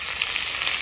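Tadka for khesari saag sizzles steadily in hot oil with garlic leaves and dried chilli, a continuous bright crackling hiss close by, with no talking.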